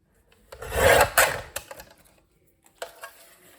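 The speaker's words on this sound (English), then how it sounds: "then I need to trim this bit off here" Paper for a junk journal being trimmed, a few short rasping cuts and scrapes close by, with quiet pauses between strokes.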